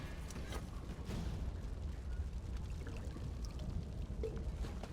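Continuous splashing pour of water in the video game Elder Scrolls Online, steady and moderately loud, with faint clicks scattered through it.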